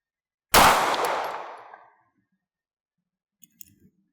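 A single loud 9mm Luger shot with 115 grain full metal jacket ammunition, fired indoors or at a wall target, a sharp blast with a long echoing decay of about a second and a half, followed by a few faint clicks.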